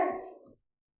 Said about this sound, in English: My dog says hi.